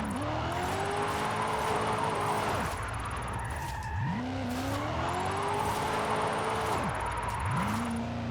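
A 5.3 liter V8 car in the Forza Horizon video game drives hard, the engine droning and rising through gears with repeated dips as it shifts, tires squealing in the corners, loud and steady with no voices.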